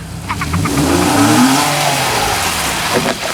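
A Porsche Carrera 4 all-wheel-drive sports car engine revs loudly and steadily, its pitch rising and falling as it accelerates, close by with no talking.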